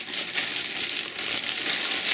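Protective tape peeled off the wrist rest of a Corsair Vengeance K95 keyboard, a soft continuous crinkling, sticky rasp lasting about two seconds, close and quiet.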